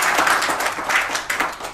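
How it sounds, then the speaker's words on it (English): At a dinner discussion event, a small audience gives a short round of clapping, moderately loud and uneven, with individual claps standing out. "So can you please give him a big round of applause?"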